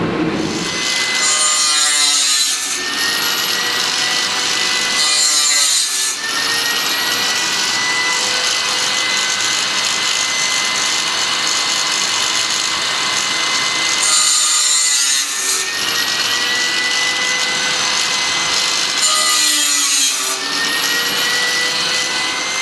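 A saw cuts through wood for a truck camper bed, a loud close grinding rasp running continuously, with short whining bursts as the blade bites at intervals; no one speaks.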